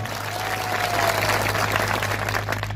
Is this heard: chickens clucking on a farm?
no